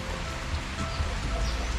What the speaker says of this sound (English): I think rain's coming down a little harder. I can hear it hitting my canopy